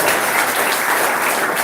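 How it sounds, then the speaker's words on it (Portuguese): A church congregation claps together in praise during a worship service; loud, dense, continuous applause with no gaps. "Quem pode dar mais uma salva de palmas a Jesus?"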